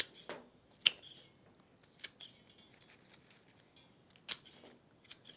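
Scissors snip through pink garden rose stems and extra greenery indoors, a few sharp, separate cuts spaced out over several seconds against a quiet room.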